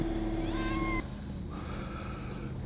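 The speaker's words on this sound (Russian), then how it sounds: "Котенок." A kitten meows outdoors on a sunny morning, a short series of high, clear cries in the first second, followed by quieter ambient outdoor noise.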